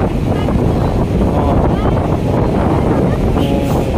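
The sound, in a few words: strong wind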